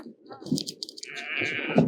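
A flock of around two hundred fifty sheep bleats as it heads out to graze, with a few wavering calls over shuffling and rustle, near and moderately loud, alongside people talking.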